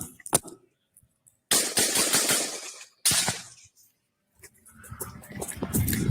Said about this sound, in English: and then we have the shots firing